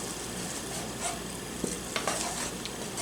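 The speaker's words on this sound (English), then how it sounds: "Mix that up real good." Browned ground meat being stirred in a pan for camp chili, with a steady sizzle and a few scraping and clinking strokes of the utensil close by.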